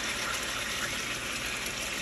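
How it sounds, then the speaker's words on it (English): Water hits a frying pot of Nigerian jollof rice, giving a steady, close, hissing sizzle throughout, with no talking. "Now once your pot starts to fry, you wanna add a little of that water."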